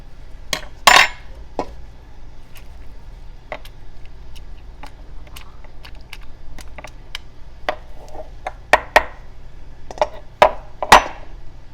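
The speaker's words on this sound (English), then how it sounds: "I'm going to take a spoon just to kind of move it a little bit to make sure that it's all down there" A spoon knocks and scrapes against a jar as shredded cabbage for homemade sauerkraut is pushed down, making sparse, sharp clinks and taps with quiet gaps between them.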